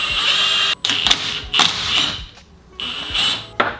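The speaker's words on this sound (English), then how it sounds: "Now we're going to take the 17mm and zap all the hardware off." Bursts of an electric impact tool zap off 17mm motor mount bolts on a Mazdaspeed 3, loud and close, with several rattling whirs separated by short pauses.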